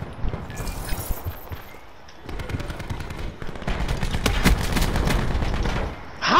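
Rapid bursts of automatic gunfire in a shooter video game, with shots coming through a wall. Dense, loud volleys build and continue steadily for several seconds, mixed with thumps and game noise.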